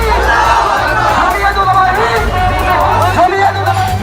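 A crowd gathers at a protest, with a dense babble of many voices and scattered shouts, loud and continuous, overlaid with a news narrator's speech.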